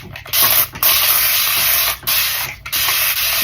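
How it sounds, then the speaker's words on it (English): A handheld spray bottle mists water onto a curly synthetic wig in several loud, close hissing bursts separated by brief pauses. "I'm going to spray her down with water all over"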